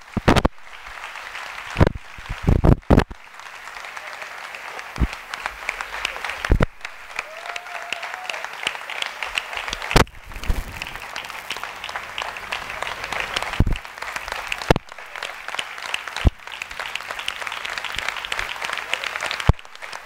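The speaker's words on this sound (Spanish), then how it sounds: "Un aplauso para ella." Sustained audience applause at a mayoral candidate's programme presentation in Valladolid, a dense steady clapping that runs throughout with a few sharper bursts and no speech over it.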